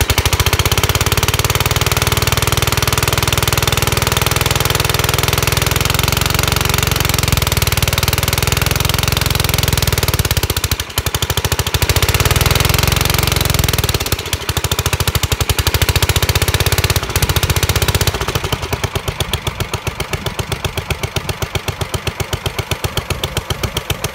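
Hydra 12 engine running after a cold start with throttle and choke, a loud continuous rough chugging close by, briefly dipping twice, then settling into a steadier, slightly lighter idle near the end.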